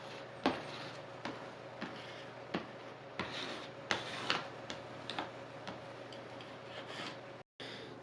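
Scraper pressing down tape edges on a wood slab before an epoxy pour, a faint series of light rhythmic scraping ticks, close and quiet, with no talk.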